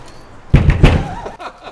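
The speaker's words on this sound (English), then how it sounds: "I'm going to bang the shutter." Two loud bangs in quick succession as a metal shutter on a Porsche 911 Carrera T is slammed shut, followed by a rattling settle.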